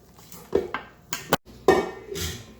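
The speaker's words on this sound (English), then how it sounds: "we're going to get our muffin tins ready" Metal muffin tins clatter and clank as they are set out for baking apple zucchini muffins, several sharp knocks and scrapes in irregular bursts, close and fairly loud with no voice over them.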